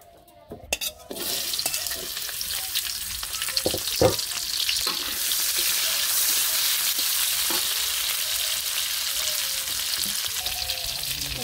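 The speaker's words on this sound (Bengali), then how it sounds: "তেলটা দিয়ে দিলাম, তার শুটকি ভাজুমু" Dried fish sizzles loudly in hot oil in a village kitchen in Bangladesh. A few clattering stirs open the clip, then a dense, continuous frying hiss follows with no talk.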